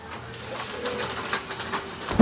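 Domestic pigeons in their loft make soft, low cooing over a hiss of background noise, steady and fairly close, with a brief louder knock at the very end.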